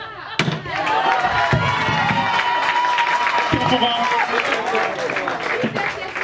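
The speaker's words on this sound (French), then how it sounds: "On applaudit, on applaudit, on applaudit, on applaudit, on applaudit." An audience at a school prize-giving day claps and cheers in a loud, sustained burst, with a few sharp thumps near the start and voices calling out amid the applause.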